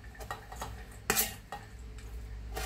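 Chopped carrots and cabbage are tipped into a pan during home cooking of fuyunghai, giving a few clattering knocks and scrapes of utensil on metal with no talking.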